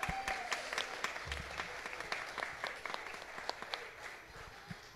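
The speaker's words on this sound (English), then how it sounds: "let's give her a quick round of applause for that." A congregation at a Sunday service gives a short round of applause, scattered individual claps popping out over a softer bed of hands, thinning as it goes on.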